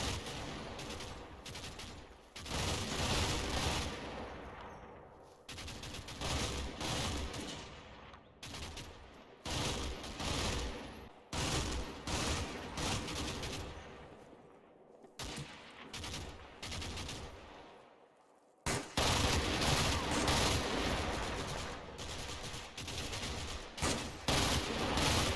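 Sustained gunfire from the World War II video game Combat Mission Final Blitzkrieg: dense bursts of machine-gun and rifle fire crackle almost without pause, briefly dropping out before a loud renewed fusillade.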